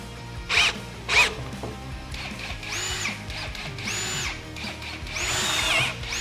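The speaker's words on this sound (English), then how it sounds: "we're just attaching these with 1¼-inch pocket hole screws" A power drill drives pocket hole screws into a wooden bed frame, with two short sharp bursts followed by several longer rising whirs as screws seat, close and loud with no voices.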